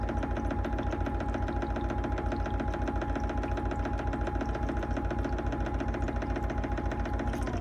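A gold shaker table's small motor runs continuously with a fast, regular mechanical rattle and vibration, steady and unchanging, with no voices.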